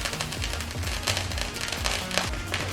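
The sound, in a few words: fireworks exploding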